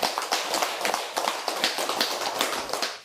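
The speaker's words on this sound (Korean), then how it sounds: "그분께 박수 한번 치도록 하겠습니다" An audience at a Buddhist temple dharma talk claps together, a brisk, uneven patter of many hands that stays fairly even in loudness, with no voices.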